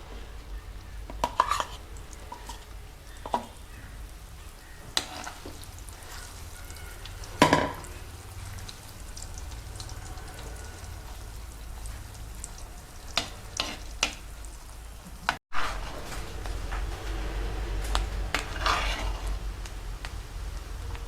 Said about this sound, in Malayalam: കല്ലുമ്മക്കായി ഈ വെള്ളെണ്ണയിലേക്ക് ഇട്ടിട്ട് ഫ്രൈ ചെയ്തെടുക്കാം